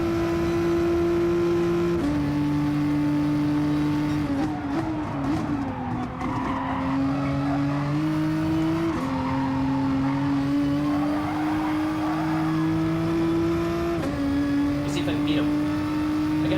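Race cars in Gran Turismo Sport at Monza roar loudly with a sustained engine drone that shifts pitch with upshifts, joined by tire squeal and skidding through a turn.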